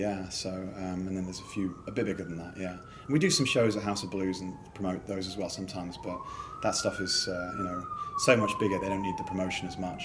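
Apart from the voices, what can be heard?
emergency vehicle sirens passing outside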